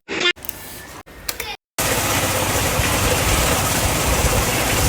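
A motorbike engine runs in short bursts that cut off abruptly, then settles into a continuous loud, rough idle-like rumble close to the recorder for the remaining seconds.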